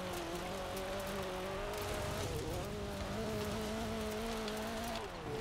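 A race car in a racing video game runs flat out, its engine droning in a steady, continuous high-revving tone with slight pitch wavering, loud and unbroken throughout.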